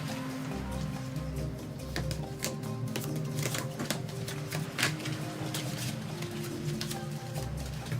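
Board game cards being shuffled during a play session of Distilled, a soft papery rattle of repeated riffles under a steady low hum and background musical tones, with no voices.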